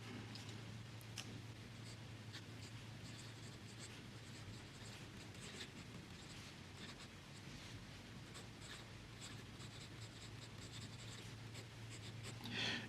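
A Kaweco fountain pen loaded with Fritz Schimpf Morgenrote ink writes on Rhodia paper, giving faint, close, steady scratching strokes over a low background hum.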